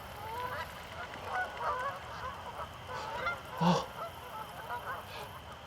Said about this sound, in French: des milliers d'oies étaient revenus des pays chauds